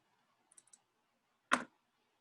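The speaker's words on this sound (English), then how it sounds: "you can access it by double clicking" Computer mouse clicking on a shape in PowerPoint, with a few faint quick clicks followed by one louder, sharper click, close and isolated against near silence.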